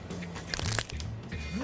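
A crunchy bite into a toasted, grilled-cheese-style sandwich, a few brittle crackling crunches up close, with faint murmuring in the background.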